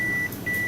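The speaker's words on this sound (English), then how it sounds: "Oh, this would drive everyone nuts, the beeping noises." Two steady electronic machine beeps, a long tone followed by a short pause and another tone, loud and clear with no voices.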